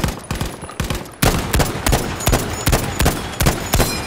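Rapid bursts of automatic rifle fire in Battlefield 5, a dense run of loud, close shots with brief gaps between volleys.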